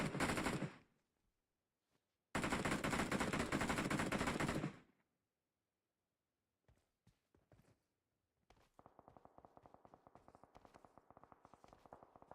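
Video game gunfire in a tournament match: two loud sustained bursts of rapid automatic fire, followed by scattered sparse pops and then a steady stream of quieter rapid shots toward the end.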